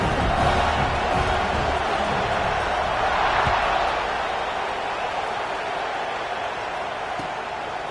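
Crowd noise in a football video game buzzing after a score: a steady, dense roar that holds for the whole stretch and eases slightly toward the end.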